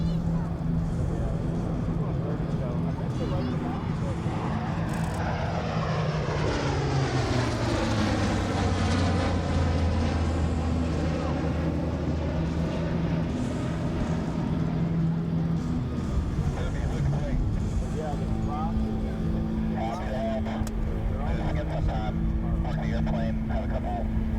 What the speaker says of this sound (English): We're going to be setting up for one more final high-speed pass from the left.